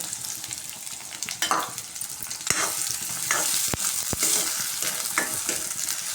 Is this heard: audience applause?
no